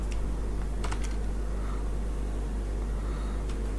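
A computer keyboard is typed on in short bursts of light key clicks, a cluster near the start and a lone tap near the end, over a steady low hum.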